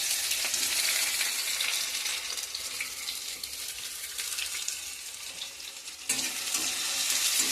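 Sliced onions hit hot oil sweetened with a little sugar in a wok, giving a continuous close sizzle and crackle with light stirring, which swells again sharply near the end.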